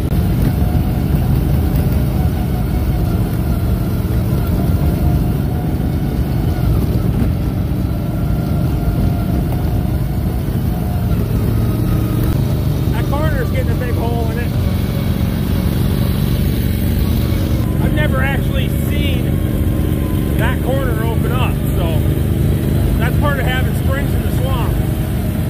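An Argo Response 8x8 amphibious vehicle drives along, its engine a steady, loud drone that runs unbroken throughout, with faint voice-like sounds surfacing briefly over the motor noise.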